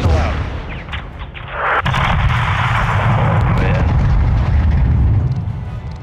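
A missile slams into a greenhouse in the Modern Warfare II video game, a sharp blast near the two-second mark swelling into a loud, sustained rumbling roar of destruction that fades slightly toward the end.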